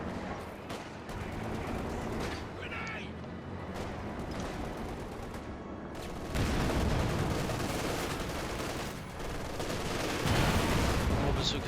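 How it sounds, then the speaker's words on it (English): Bazooka rockets and small-arms gunfire in the strategy video game Company of Heroes 2, a dense continuous battle din of overlapping shots and blasts, swelling louder toward the end. "More bazookas flying."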